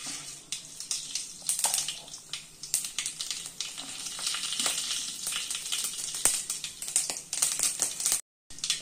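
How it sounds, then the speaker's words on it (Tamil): Hot oil crackling with many quick, scattered pops of a spoonful of mustard seeds bursting while tempering for peanut chutney, fairly close, with a brief silence near the end. "கடுகு வெடித்ததும்"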